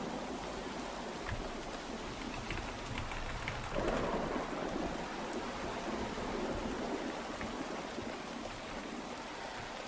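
Rain pours steadily in the game Uru Live while thunder rumbles low beneath it, swelling noticeably partway through; a continuous, fairly close storm with no talking.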